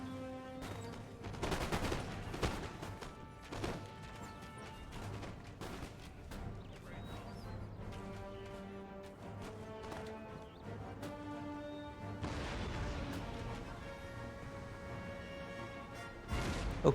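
Scattered volleys of musket fire and booming artillery from a Total War: Empire battle crack and thud repeatedly in bursts, some close and sharp, others distant, over a steady battlefield din with no clear speech.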